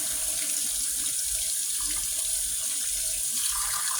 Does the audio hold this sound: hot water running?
yes